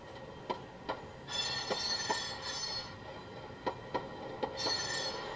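A Soundtraxx sound decoder in a model railroad sound car plays synthesized train sounds. Faint periodic clacks and ticks come at a steady rhythm under a high, thin squeal that fades in and out, quiet and with no speech.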